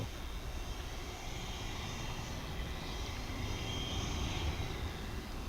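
An Airbus A321 jet airliner sits at the end of the runway at DFW Airport, about to take off, its engines giving off a steady, distant roar that holds unbroken throughout.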